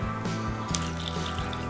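Garlic marinade poured gently into a bag, a close liquid gurgle and splash with a steady low tone running throughout, continuous for under two seconds with no talk.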